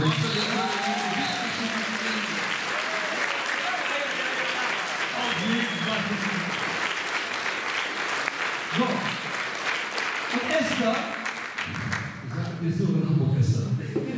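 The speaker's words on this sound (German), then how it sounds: "Deswegen ein riesengroßer Applaus auf Joram." A stage audience gives a long, steady round of applause for a man named Joram, with the dense clapping continuing for several seconds while voices are heard speaking over it.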